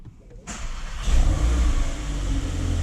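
A Volkswagen Golf R MK8 engine starts up: a sharp crank and catch, then a loud rev that settles into a steady, close, rumbling idle with no talking.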